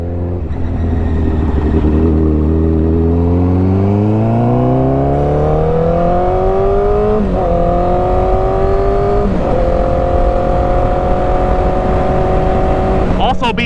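A 1000cc motorcycle engine revs while being ridden, its pitch climbing steadily through the gears with brief dips at each shift, loud and continuous, with a rider's voice faintly audible over the engine.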